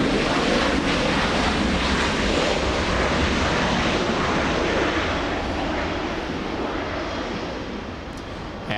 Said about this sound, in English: Almost a 2-for-1 special with the Delta 737, the Delta flight flying in from Salt Lake City.